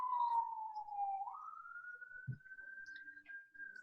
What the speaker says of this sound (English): I live downtown right by the hospital, so there's sirens like crazy today